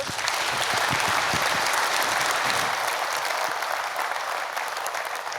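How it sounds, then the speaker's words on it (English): Sustained, dense applause from a conference audience at a civil contractors' event, honouring the New Zealand Prime Minister, loud and steady throughout with no talking over it. "Round of applause for the Prime Minister."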